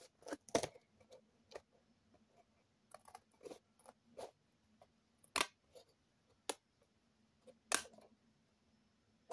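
Scissors snipping off excess paper, a series of sharp, close clicks and crisp cuts in an irregular rhythm, some clustered and some spaced apart, over an otherwise quiet room.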